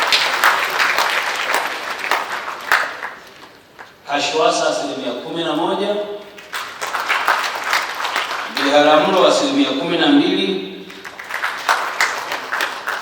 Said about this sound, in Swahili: Wapigeni makofi msongamano